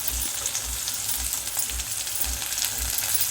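Curry leaves dropped into hot oil with pounded garlic for tomato thokku, crackling in a steady close sizzle, with soft rhythmic thumps of stirring about twice a second.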